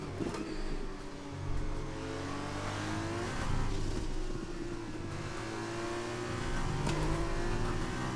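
An F2 race car engine in a racing game revs steadily, its pitch rising through the gears and dropping briefly at each shift, a continuous moderately quiet drone heard alone.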